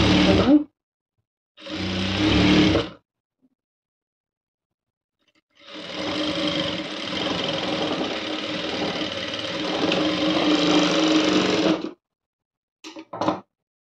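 A sewing machine stitches the lining of a high-neck sleeveless blouse in close, whirring bursts: two short runs, a pause, one long steady run, then a couple of brief ticks.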